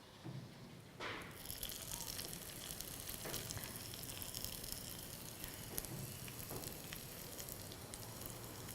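Chili frying on top of shrimp paste for Balinese sambal, a steady close sizzle that swells after the first second and holds loud and even throughout, with occasional faint stirring clicks and no talking.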